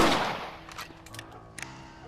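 Rifle shots in the video game Red Dead Redemption: one loud report fading into echo, then a few quieter, sharper cracks farther off.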